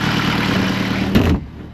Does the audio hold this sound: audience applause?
no